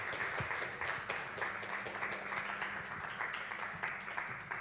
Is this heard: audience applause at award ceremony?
yes